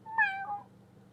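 A single short cat meow, close and clear, rising then falling, followed by quiet.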